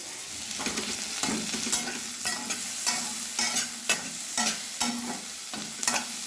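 A spice mix of white sesame seeds and peanuts crackles as it fries in a pan, stirred with repeated spatula scrapes at a close, even level and no speech.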